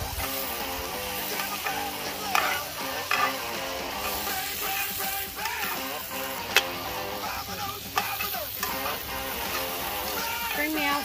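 Steak sizzles in butter on a cast iron skillet over an open flame, a continuous hiss beneath background music with occasional sharp clicks and scrapes.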